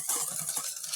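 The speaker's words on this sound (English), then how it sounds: "Then you have to whisk the two together. Sugar and flour together." Sugar and flour being whisked together in a bowl make quick, light, scratchy strokes, close by and faint, with no voices.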